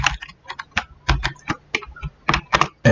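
Typing on a computer keyboard: irregular clusters of crisp, close key clicks in quick bursts with short pauses, no voices.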